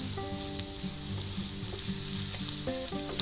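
Onions sauté in a pan for a three-egg Limburger cheese omelet, giving a steady, close, even sizzle with faint crackles throughout and no talking.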